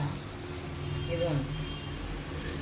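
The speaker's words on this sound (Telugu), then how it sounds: "ఇదైతే తాలింపు ఫ్రై అవుతుంది." Onion, cumin, mustard seeds and dried chilli sizzle and crackle in hot oil, a steady close frying hiss with a voice speaking briefly over it.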